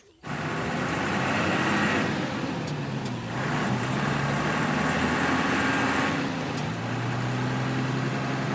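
A truck rolls along a road in a steady, close cabin-and-tyre rumble with broad road noise, swelling slightly in waves as it drives, with no voices over it.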